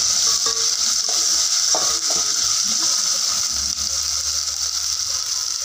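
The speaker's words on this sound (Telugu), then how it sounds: "ఇప్పుడైతే టమోటాలు వేసేసాను వేసేసుకొని ఒకసారి బాగా కలిపేసుకోవాలి" Tomatoes stirred into a frying homemade chicken biryani masala of hand-pounded spices, with a steady close sizzle and scraping stirs across the pan, no voices.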